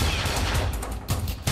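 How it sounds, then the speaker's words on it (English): Rapid bursts of gunfire in a Roblox hood roleplay game, loud and close, a dense fusillade with sharp louder shots near the end. "That boy shot me for no reason, gang."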